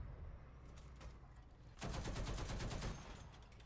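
Rapid automatic gunfire from a vehicle-mounted weapon in War Thunder, a dense burst of shots that swells loud and continuous for about a second, then cuts off, with scattered faint shots around it.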